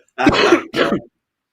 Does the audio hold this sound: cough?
yes